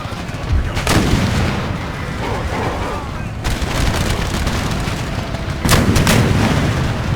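Cannon artillery firing in Empire: Total War, with booming blasts near the start and again toward the end over continuous battle noise and a rumbling low end.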